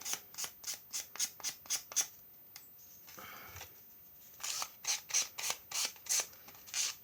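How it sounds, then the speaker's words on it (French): Scissors trim excess paper from a small handmade artist trading card: a steady run of crisp close snips, a brief pause with soft rubbing of paper, then another rhythmic series of cuts. No one speaks. "On enlève bien l'excédent de papier."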